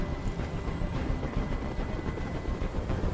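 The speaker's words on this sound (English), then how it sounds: "Tell that helicopter to get out of here." Helicopter in the Detroit: Become Human video game, a continuous low rotor drone with steady rumbling thump, loud and unbroken throughout with no other sounds.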